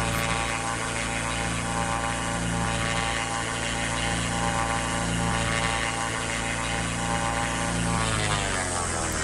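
Steady droning airplane engine from a flight simulator video game, a constant loud hum with propeller-like tones that shift pitch near the end as the plane slows.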